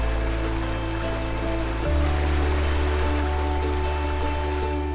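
A small river beside a walking trail in Fougères flows with a steady, even rush of moving water, continuous and fairly close, with a low constant hum beneath and no voices.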